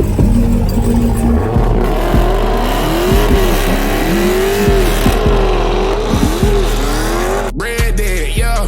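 A 2019 Dodge Hellcat engine revs loudly and close, its pitch swooping up and down in repeated throttle blips over a deep continuous rumble, with a brief dropout near the end.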